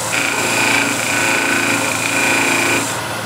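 A power sander works a wooden carving in a steady, loud, close whine with a constant buzzing drone that holds evenly throughout, with no talk.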